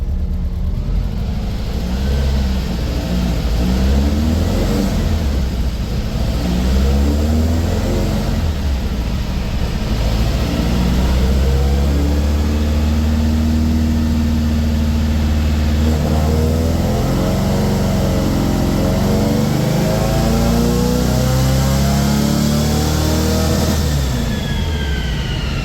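An injected 1835cc VW engine runs on a chassis dyno in first gear, revving in loud, sustained pulls with rising and falling pitch sweeps over a constant heavy rumble, with no voices over it.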